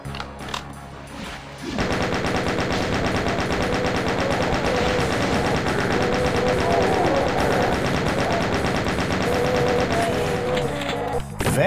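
Rapid continuous chain gun fire from a video game (RAMP 2024), a dense mechanical rattle beginning abruptly after a quieter opening and sustaining loudly for about ten seconds.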